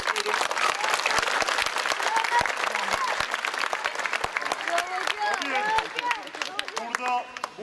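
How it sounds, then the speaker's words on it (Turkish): A crowd claps steadily and loudly for several seconds at a children's football tournament trophy ceremony in Denizli, with cheering voices and chatter mixed in as the applause thins toward the end. "bütün hocalarımıza, bütün antrenörlerimize güçlü bir alkış"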